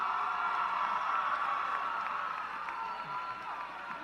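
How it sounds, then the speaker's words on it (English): Sustained applause and cheering from a large audience at a 2018 high school graduation ceremony for Palm Beach Lakes Community High School, a steady wash of clapping that fades slightly toward the end. "Let's have them a round of applause."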